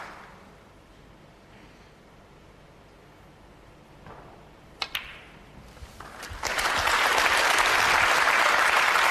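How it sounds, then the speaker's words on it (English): Audience applause at a snooker match rises from a quiet hall into loud, sustained clapping that fills the last few seconds, after a couple of sharp clicks. "that applause is for the secretary"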